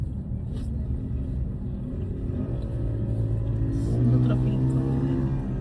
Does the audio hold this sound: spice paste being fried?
no